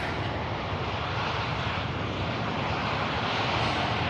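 An aircraft on approach to Manchester Airport gives a steady, broad engine roar that stays loud and unbroken throughout.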